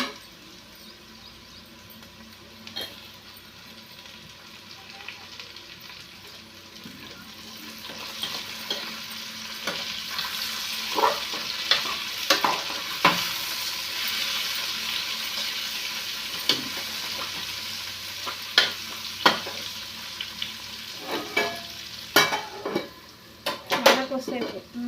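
Two tomatoes fry in a hot pan with a steady sizzle that builds, while a utensil scrapes and clinks against the pan in scattered strokes, louder toward the end.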